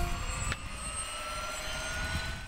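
A Civil Police helicopter drones loudly and steadily from start to finish, a constant engine roar with a brief sharper burst near the beginning.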